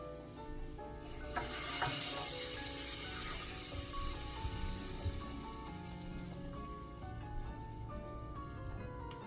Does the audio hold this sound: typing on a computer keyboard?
no